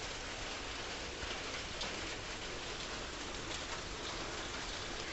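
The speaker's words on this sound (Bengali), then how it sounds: "ছিটেফোঁটা বৃষ্টি পড়ছে" A light drizzle falls outdoors as a soft, even, continuous patter of rain, faint and unbroken throughout with no voices.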